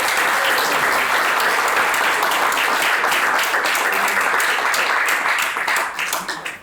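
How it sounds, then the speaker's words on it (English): A conference audience bursts into loud, dense applause welcoming a speaker to the stage, a sustained wash of clapping that holds steady for several seconds before tapering off at the end. "Let's give a very big applause to Dominik and welcome him to the stage."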